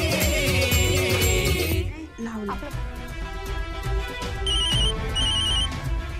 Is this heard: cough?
no